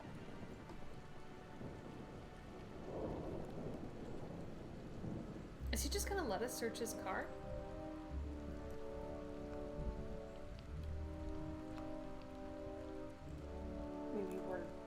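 Rain falls steadily in the Nancy Drew: Midnight in Salem game, pattering on surfaces with a burst of thunder partway through, while voices talk over the downpour.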